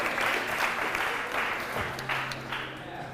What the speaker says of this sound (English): Let's have a big cheer for these